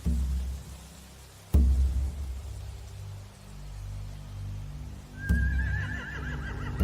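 A horse whinnies sharply once, then again later with a wavering high neigh, over a low ambient rumble in The Walking Dead: Final Season video game; no voices.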